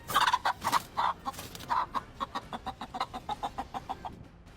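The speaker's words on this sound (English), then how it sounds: "this hen, who fearlessly stood up to defend her chicks from a snake attempting to" A hen defending her chicks from a snake gives a rapid series of sharp, agitated clucks, loud at first then steady and slightly fainter, with no talking.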